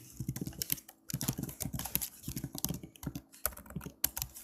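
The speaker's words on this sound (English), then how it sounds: "hold on, I'll type it in chat." Rapid keyboard typing in irregular bursts, close and fairly quiet, clicking steadily across the whole stretch with short pauses and no voices.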